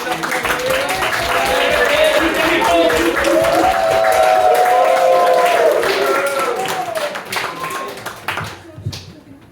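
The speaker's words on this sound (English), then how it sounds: "Start clapping." Audience clapping in an evening event space in Nottingham, sustained applause from a crowd lasting most of the stretch, with a tonal musical or electronic sound underneath, then tapering off.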